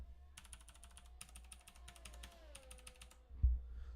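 Quick bursts of clicky computer keyboard keystrokes come in uneven clusters, close but quiet, over a low background hum. A short thump follows near the end.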